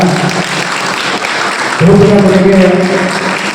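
An audience claps at a journalists' day ceremony in Kotturu. Broad, dense applause fills the hall, and a voice begins speaking over it partway through.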